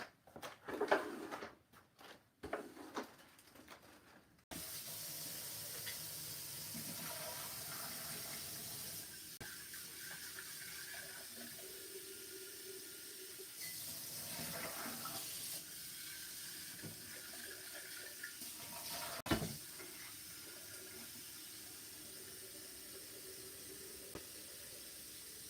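Water running from a tap into a sink while an acrylic painting brush and its water jar are being cleaned, a steady quiet stream for about twenty seconds after a few early knocks and clatters.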